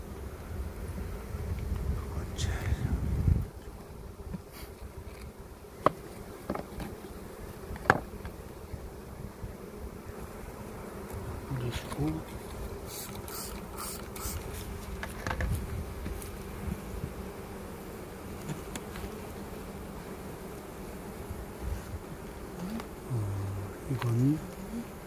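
Honeybees hum faintly around an opened hive during a spring inspection, a low steady buzz beneath occasional quiet speech and a few handling knocks.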